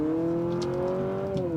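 A 2023 Honda CR-V Hybrid with a CVT accelerating in sport mode, a steady droning engine whine holding a near-constant pitch from inside the cabin, with no talking.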